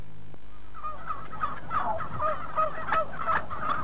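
Many turkeys gobble and call together on a Norfolk turkey farm where breeding hens are kept, with a dense chorus of repeated gobbles that start after a brief pause and continue steadily at moderate volume, with no talk.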